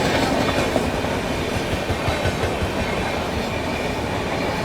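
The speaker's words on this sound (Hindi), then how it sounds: "new Delhi MGR Chennai central grand trunk express भाई जाती हुई" The Grand Trunk Express, running from New Delhi to MGR Chennai Central, rushes past at close range in a steady, loud roar of rolling wheels with rhythmic clatter across the rail joints, and no voices are heard.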